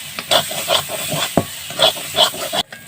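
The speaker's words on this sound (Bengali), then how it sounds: "টমেটো আর ডিমটা যাতে ভালো করে নাড়াচাড়া হয়, একসাথে যাতে মিশে যায়" Tomato and egg are stirred in a hot pan, with a steady sizzling hiss under rhythmic scraping strokes of the spatula, close and fairly loud, ending abruptly.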